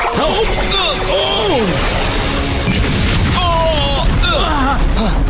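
Steel Blade Scatter Shot attack from Power Rangers Samurai, a burst of booming explosions and crashing impacts with whooshing effects, loud and dense, mixed under excited voices shouting over the blasts.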